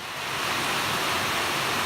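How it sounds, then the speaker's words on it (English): Heavy rain pours at an overlook beside a hydroelectric dam, a dense, steady broadband hiss that swells slightly at the start and then holds constant, with no voices. "It is pouring and I found an overlook for this dam."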